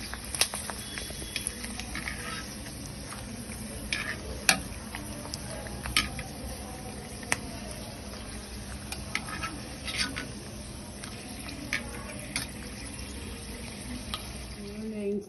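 Sun-dried buttermilk chillies dropped into hot oil, sizzling steadily with scattered sharp crackles and pops and an occasional clink of a pan, close and fairly loud.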